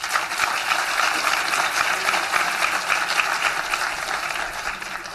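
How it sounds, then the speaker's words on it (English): A large audience at a mental health legislative breakfast applauds the event sponsors, with dense, even clapping that holds steady throughout and no talk over it. "Let's give our sponsors a big round of applause."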